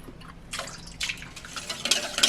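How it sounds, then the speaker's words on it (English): Milk poured into a 250 ml measuring cup makes a short burst of splashing, trickling liquid sounds that grow louder and fuller over about two seconds. "This is a 250 ml cup, so I'm going to measure it and pour it twice."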